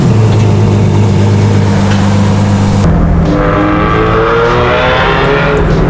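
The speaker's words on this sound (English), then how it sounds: "press the engine start button" Ferrari 812 GTS with a V12 engine starting from a push button: a loud, steady low engine drone that abruptly changes character about halfway through, settling into a deep idle burble close by.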